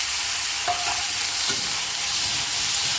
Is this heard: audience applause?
no